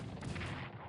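Defensive artillery fire in the World War I strategy game Strategic Command WWI, a single short, dense burst of booming gunfire lasting about a second, moderately loud with no voices.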